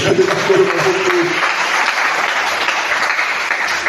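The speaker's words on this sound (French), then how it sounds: "On peut acclamer le Seigneur" A church congregation breaks into steady, dense applause acclaiming the Lord, loud and continuous throughout, with a voice briefly audible over the clapping at the start.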